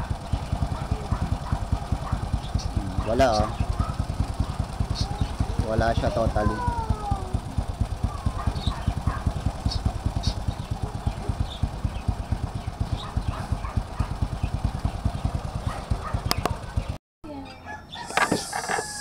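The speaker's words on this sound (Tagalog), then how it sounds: "Pero maandar yung kanyang motor." A motorcycle engine idles with a steady, rapid rhythmic putter during a stator check in a workshop, while people talk briefly over it and a rooster crows in the background.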